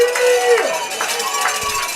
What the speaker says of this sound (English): This hometown crowd is still making plenty of noise